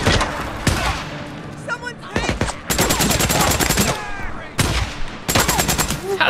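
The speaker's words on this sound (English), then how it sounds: "that guy had a shotgun" Shotgun fire and other gunfire erupt during a firefight in the video game Days Gone: several loud, close blasts and rapid clusters of shots, with voices speaking between and over them.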